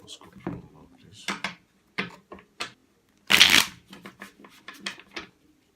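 Playing cards shuffled by hand in a series of quick riffles and slaps, each burst crisp and close, with one long loud riffle in the middle and short pauses between.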